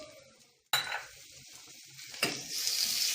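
Chopped carrot hits a pan of soft-cooked onions with a sudden loud sizzle. Steady frying hiss follows, and a second burst of sizzling comes as the mixture is stirred.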